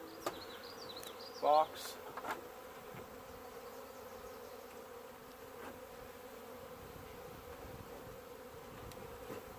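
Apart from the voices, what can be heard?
honey bee swarm buzzing around hive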